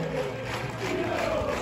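A crowd of football fans sings and chants at a club presentation for Giulianova Calcio, a steady, distant massed roar of voices.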